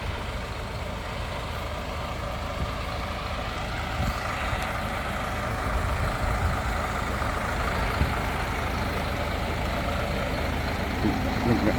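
A van pulls in and idles nearby, its low engine rumble running steadily under background noise, with people talking throughout.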